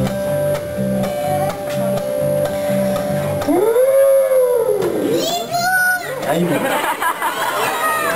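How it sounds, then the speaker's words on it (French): A recorded dinosaur roar plays during an animal-sound guessing game for children at a library, with long rising and falling bellowing sweeps after some earlier animal calls, with chatter and voices around it. "C'était le dinosaure."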